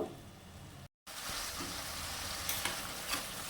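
Spices being stir-fried in oil in a pan for a fish-roe fritter curry, with a continuous close sizzle under repeated scraping strokes of a spatula and no talk.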